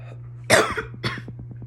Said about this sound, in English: give it another huff and then a cough as well